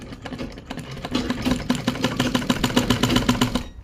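A sewing machine stitches the seam of a women's ghoti pant, its needle chattering in close, rapid rhythmic bursts that start hesitantly and then settle into a fast, even run before stopping.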